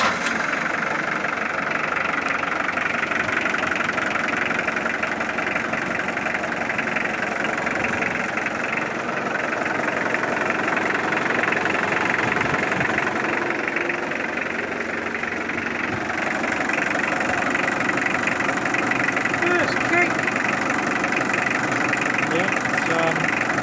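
A Mitsubishi Triton 4D56T turbo diesel engine that had sat unused for about ten years runs at a steady, rough idle with a constant mechanical clatter and vibration throughout.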